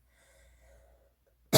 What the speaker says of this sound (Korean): 기침이 이게 가시지를 않아서